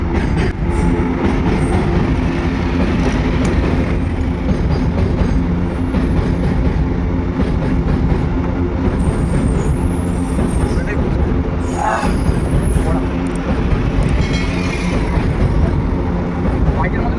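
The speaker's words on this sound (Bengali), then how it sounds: "মাল গাড়ি চলে যাচ্ছে গাইস" A passing freight train fills the scene with a loud, continuous rumble and wheel clatter, with occasional screeches, while people talk over it.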